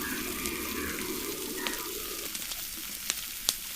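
Tomatoes added to onions frying in oil give a dense, steady sizzle close by, broken by a few sharp clicks and knocks.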